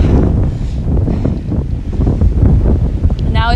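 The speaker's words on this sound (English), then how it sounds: "Now it's like really nice and breezy, so that's good." Strong breeze buffets the microphone on a trip in Fiji, a loud continuous low rumble with gusty swells and no clear pauses.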